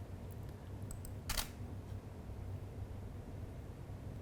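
A camera shutter fires once to take a test image at 1/30th of a second for floating still-life photography. The single sharp click stands out near the room's quiet background hiss.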